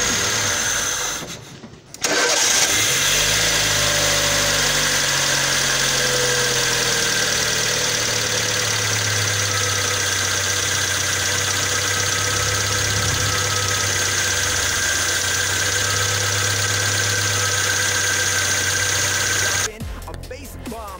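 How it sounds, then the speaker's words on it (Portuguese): A car engine runs steadily in a workshop for a long stretch, loud and close, after a brief drop at the start, with a continuous idle hum that holds nearly unchanged throughout. "funcionamos o motor por cerca de 25 minutos, acelerando de forma intermitente para melhor ação do produto"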